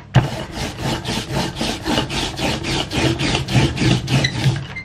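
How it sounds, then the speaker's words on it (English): A cloth rubbing excess gesso off a painted surface makes rhythmic, scratchy back-and-forth strokes, about three per second, steady and close for several seconds with no talking. "Any excess, take off with the cloth. Super easy to get off. You just rub it off, just like that."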